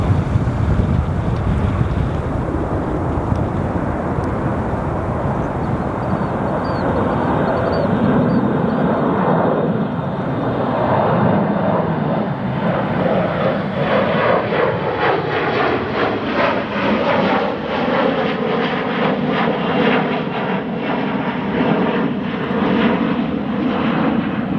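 An American Eagle Envoy jet departs O'Hare International Airport at night, its engine roar loud and steady for the whole stretch, with wind buffeting the microphone and a sweeping, shifting pitch as the aircraft climbs past.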